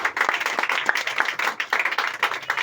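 A church congregation at an evangelical service claps together in praise, a dense, steady run of hand claps filling the room, with no one speaking over it.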